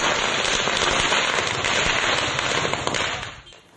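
Rapid, dense firecracker bursts crackle loudly and continuously, then taper off and fade near the end.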